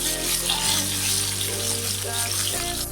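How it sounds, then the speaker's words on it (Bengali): Bitter gourd with a little turmeric frying lightly in oil, a steady close hiss and sizzle with no pauses. "উচ্ছেটা একটু হালকা করে ভেজে নেব।"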